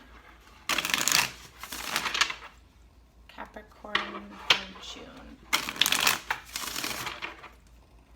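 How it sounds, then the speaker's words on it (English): Tarot cards being shuffled in two bursts of rapid riffling, close to the mic, with someone speaking briefly between them. "this will be our last shuffle, and then we'll get started"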